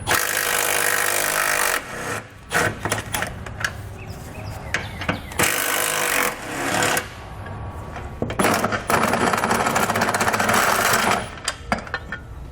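Frame bolts coming out of a 2019 Nissan Rogue with an 18mm socket during a trailer hitch install: loud bursts of power-tool ratcheting in several sustained stretches, broken by metallic clinks and handling noise, no talk.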